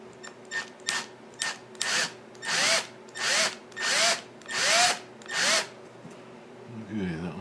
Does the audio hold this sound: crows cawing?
no